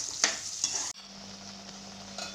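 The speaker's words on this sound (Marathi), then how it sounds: "आता हे कांदा टोमॅटो चांगला भाजलेला आहे" Onion and tomato frying in oil for pav bhaji, with a few sharp scraping stirs over bright sizzling at first, then a steady, even sizzle with a low hum underneath.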